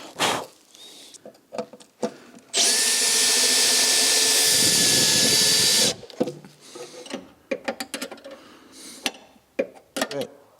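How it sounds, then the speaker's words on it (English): A power drill bores into a bracket in a car's engine bay for an MGB GT, one loud sustained whining run of about three seconds, framed by scattered handling clicks and knocks before and after. "On this side I will drill a couple of holes"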